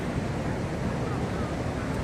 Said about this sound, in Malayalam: അതിരപ്പള്ളി വെള്ളച്ചാട്ടം